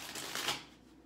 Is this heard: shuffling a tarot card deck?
yes